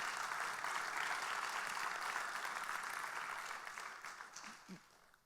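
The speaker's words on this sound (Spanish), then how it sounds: "Dale un aplauso al Señor, dile gracias" A church congregation claps together in a sustained, dense round of applause that holds steady and then thins out toward the end, with a few scattered claps and a faint voice near the close.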